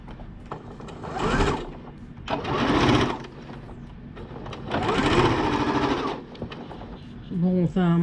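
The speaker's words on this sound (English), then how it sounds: "I'm going to stitch it closed along the side and along the bottom" Up close, a sewing machine stitches a crossbody purse closed along the side and bottom in several separate runs of rapid whirring, with quieter handling between them and a voice briefly near the end.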